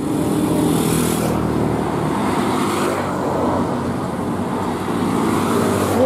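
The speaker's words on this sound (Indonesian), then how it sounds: "Oke, ada bis lagi nih." A tour bus heading to Ciwidey under police escort, rolling past in road traffic with a continuous loud engine rumble and tire roar that stays steady throughout, no voices.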